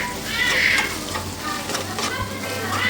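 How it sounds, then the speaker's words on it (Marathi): Masala sautéing in hot oil as a spoon stirs it through the pan, a loud close sizzle with scraping strokes that rise and fall across the moment. "जो आपण मसाला घातला तो थोडासा तेलामध्ये परतून घेऊया."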